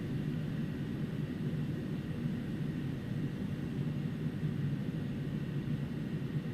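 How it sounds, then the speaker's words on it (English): Steady, even jet engine roar of an iniBuilds Airbus A300 in the X-Plane 11 flight simulator, a continuous low rumble at moderate volume with no speech. "Love the engine sound. It is beautiful."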